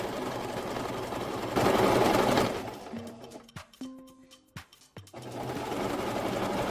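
A sewing machine stitching a fabric seam runs in a steady mechanical whir, pauses briefly with a few clicks and taps from the machine, then starts stitching again, close and alone.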